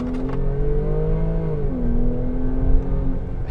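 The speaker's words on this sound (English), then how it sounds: "Oh my God, I love that exhaust note." A 2017 Jaguar F-Pace engine hums with a steady, low exhaust drone from inside the cabin, its pitch dropping midway and then holding.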